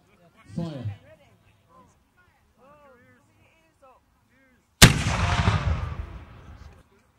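A muzzle-loading cannon fires at a Waterloo re-enactment: after a moment of quiet speech and commands, a single loud, sudden boom rolls out into a long, fading rumble.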